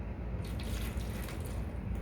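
Water pours steadily into a plastic seed tray for cranberry seeds, a continuous splashing, trickling wash at moderate loudness with no break and no voices.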